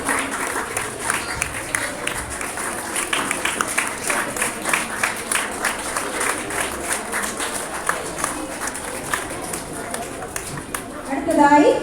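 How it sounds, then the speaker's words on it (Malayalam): Audience applause for an award winner at a school annual day celebration, steady sustained clapping from a large crowd with a continuous rhythmic texture, swelling louder right at the end. "നല്ലൊരു കൈയടി നൽകി നമുക്ക് വിഘ്നേഷിനെ പ്രോത്സാഹിപ്പിക്കാം."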